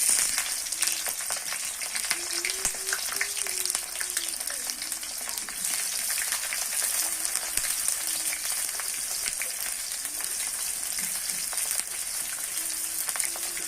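Fish frying in hot oil, a dense continuous sizzle with crackling pops, fairly faint and close, with a faint voice briefly in the background.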